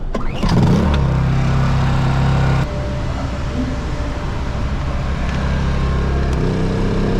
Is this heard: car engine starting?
yes